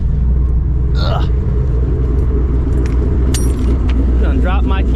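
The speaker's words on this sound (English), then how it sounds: "Done dropped my keys." Car keys dropped beside a 500hp S650 Mustang GT, a brief metallic jingle over a constant low engine rumble, with a person talking nearby.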